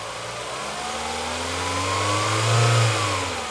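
A Roewe car engine, just back together after repairs, revs up as the accelerator is pressed, the pitch climbing and swelling to a peak near the end before easing off over a steady running drone.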